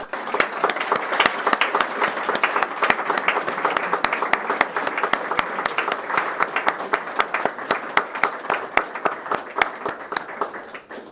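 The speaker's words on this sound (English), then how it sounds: "Please give a round of applause to Grace Foster." Steady applause from an audience for an award winner at a cultural awards ceremony, dense hand clapping with sharp individual claps standing out, sustained for about eleven seconds before fading slightly at the end.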